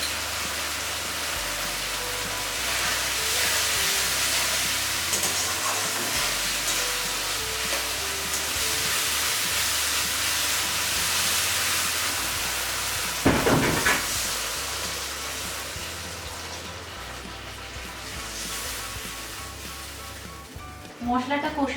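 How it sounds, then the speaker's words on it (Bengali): A paste of coriander, cumin and ginger sizzles with tomato and turmeric in hot oil, a loud, steady close frying hiss with occasional stirring scrapes and a brief clatter, while a voice talks over it. "ধনে, জিরে, আদা দিয়ে যে পেস্ট আমি তৈরি করেছিলাম সেটা দিয়ে হলুদ গুঁড়ো দিয়ে মশলাটা কষিয়ে নিচ্ছি"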